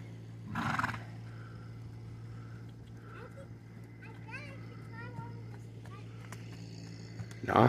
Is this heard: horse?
yes